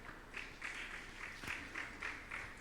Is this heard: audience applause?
yes